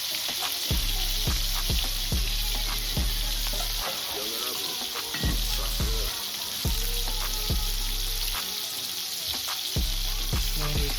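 Braised BBQ short ribs searing in a pan, a loud continuous sizzle with crackling bursts and repeated low thumps and scrapes as pieces are moved, close up with no talk.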